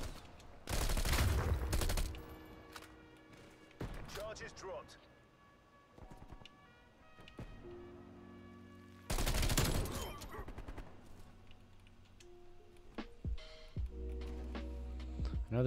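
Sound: Bullfrog SMG gunfire in video game Call of Duty Cold War

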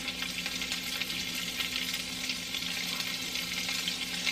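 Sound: onion frying in olive oil in a hot pan

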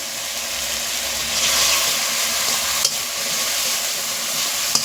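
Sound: frying spice paste sizzling in oil

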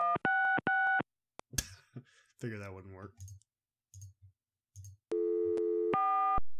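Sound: desk phone tones in the video game Gabriel Knight: Sins of the Fathers

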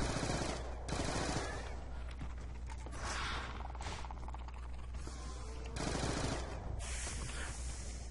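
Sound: sub machine gun fire, Die Rise video game

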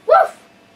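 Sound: Chiweenie dog barking

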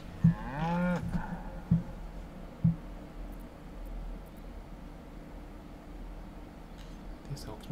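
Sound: cow mooing in the video game Baldur's Gate 3

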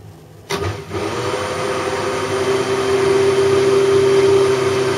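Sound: blender mixing milk and coffee

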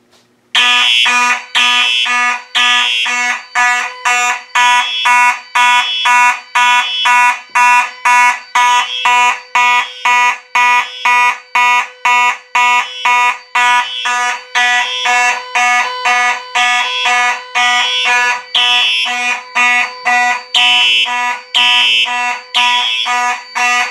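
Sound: Simplex fire alarm sounding after being pulled

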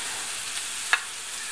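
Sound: carrot frying and sizzling in oil in a skillet

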